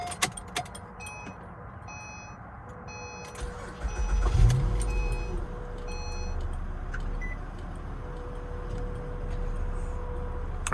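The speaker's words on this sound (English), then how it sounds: "So now you can start your car like normal" A 2010–2013 Acura ZDX with a check-engine light cranks and fires up after a run of chimes and clicks, then settles into a steady, close idle with no one talking.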